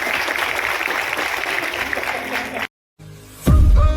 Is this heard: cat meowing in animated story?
no